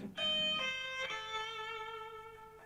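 Electric guitar playing a metal lick, three clean picked notes in quick succession, each ringing out with sustain and played alone.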